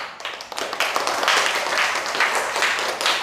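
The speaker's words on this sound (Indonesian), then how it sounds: "Silakan kalian beri apresiasi berupa tepuk tangan." A classroom of students claps together in a fairly even, dense burst of applause that holds steady for a few seconds, close and moderately loud, with no voices over it.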